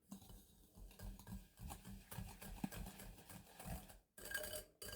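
A utensil clinks and scrapes steadily against a bowl while egg and sugar are stirred together for cookie dough, a quick repetitive rhythm with a brief pause near the end, close and fairly soft.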